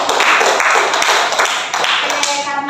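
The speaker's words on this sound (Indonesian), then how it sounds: "Tepuk tangan dulu dong untuk kita." A small group in a counselling session applauds, brisk, close hand claps in a dense burst that keeps going at an even loudness, with a faint voice starting at the end.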